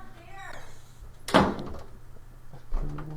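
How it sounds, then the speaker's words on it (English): A door is shut with a single solid thunk, close by, followed by a faint click as it is locked, amid speech before and after. "Nope, I'm locking the door."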